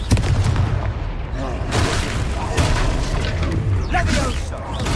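Confringo spell blasts in the Hogwarts Legacy video game land as repeated booming impacts amid continuous, dense combat noise, loud and close throughout.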